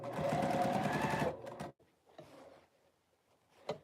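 A sewing machine runs a basting stitch on a garment sleeve: a loud, fast, steady whir for over a second, then a few short stitching bursts and quieter handling sounds.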